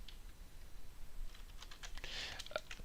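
Computer keyboard keys tapped in a quiet room while opening a Python shell, a scattered run of soft clicks that bunches into a denser burst near the end.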